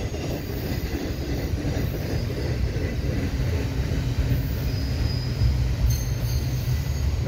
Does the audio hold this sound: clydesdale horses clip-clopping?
no